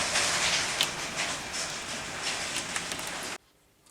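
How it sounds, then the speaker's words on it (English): Marble-sized hailstones pour down in a dense, loud, steady hiss with scattered sharper impacts, then the sound cuts off abruptly near the end. "That's literally 10 seconds of hail, not even that, but look at the size of the hailstones, they're like marbles."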